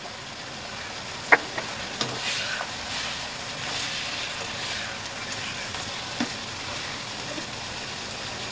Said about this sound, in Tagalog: ilagay na natin yung carrots